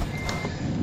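A truck's reversing beeps in American Truck Simulator sound as short tonal pulses over a steady engine drone, heard up close for under a second.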